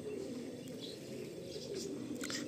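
Soft, low cooing of an old Madrasi pigeon repeating close by, with faint chirps from other birds in the background.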